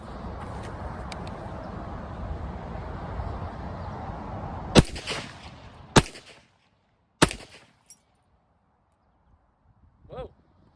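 An RTI Hakim C-grade rifle fires three sharp, loud shots a second or so apart, first over steady outdoor background noise, then in near silence, followed by a faint clatter.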